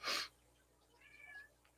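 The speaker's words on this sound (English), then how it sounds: "Sorry, my cat." A domestic cat lets out a brief, faint meow after a short loud burst at the start, heard close in a quiet indoor room with no voices.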